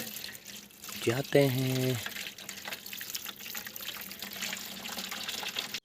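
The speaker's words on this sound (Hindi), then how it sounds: "तो पानी भरते हैं इस जरकिन में, ये यहाँ पे है नाला," Water from a mountain stream runs into a jerrycan, a steady rushing trickle filling the whole stretch beneath a short spoken phrase near the start.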